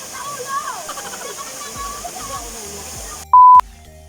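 People swimming in cold water kick up a steady, continuous wash of splashing with voices in the background. A sharp electronic beep sounds briefly near the end.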